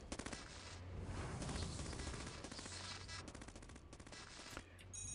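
Rapid, dense gunfire from virus robots in the Cogmind video game rattles on without a break, a continuous, fairly quiet fusillade with no talk.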